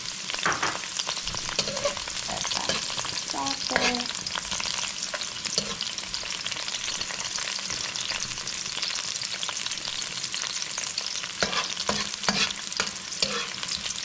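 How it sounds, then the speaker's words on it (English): Garlic sautés in a hot pan for shrimp and pumpkin, a continuous crackling sizzle with occasional spatula scrapes and light clicks, close-up and without talk. "So I'm gonna saute some garlic"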